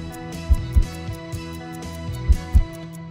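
A heartbeat sound effect thumps in two paired lub-dub beats about two seconds apart, deep and close over a sustained musical hum, with no voices.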